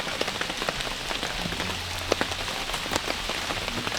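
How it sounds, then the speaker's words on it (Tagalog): Steady rain patters on a surface on Mt. Apo in the Philippines, with scattered louder drops landing throughout and a low rumble underneath. "So, umuulan pa po."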